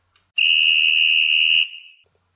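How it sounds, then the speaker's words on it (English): A whistle is blown long and loud, a single piercing sustained shrill tone lasting over a second, close and alone, then cut off into silence. "Connor grabbed a whistle and blew long and loud"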